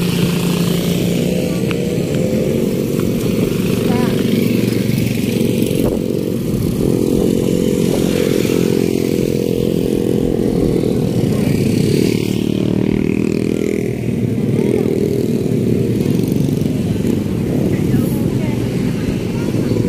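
Children's ATV motocross quad engine at Cemara beach in Tuban, droning loud and close in a continuous, steady buzz for the full twenty seconds with no break.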